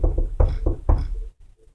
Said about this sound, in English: Did you hear that knocking?